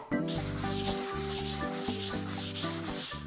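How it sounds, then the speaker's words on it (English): A plastered wall is sanded by hand in steady, rhythmic back-and-forth strokes, close and loud, about eight even rubbing passes with a faint tonal hum underneath and no talking. "Once plastered, we will sand the surface."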